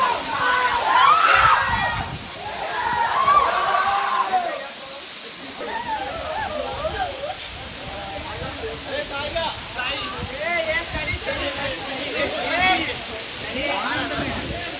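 Katiki waterfall in Araku roars as a constant, dense rush of falling, splashing water close by, while voices of people playing and chatting near the falls are heard over it.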